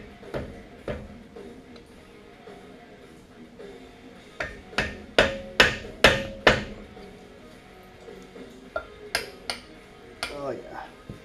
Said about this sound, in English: we're going to give that a little love with the screwdriver hammer